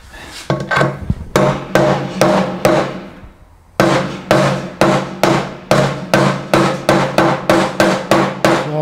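A hammer drives a part into a Vespa PX 177cc engine during a rebuild: a quick burst of blows, a short pause, then a long run of loud, evenly spaced metallic knocks that speed up toward the end.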